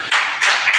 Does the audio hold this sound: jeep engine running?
no